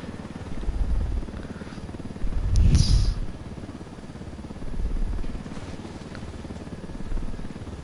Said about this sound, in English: these in real life are my like favorite helicopters, Blackhawks